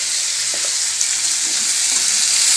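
Salted onions fry in a pan with a loud, continuous hiss and crackle close up, steady throughout with no talking.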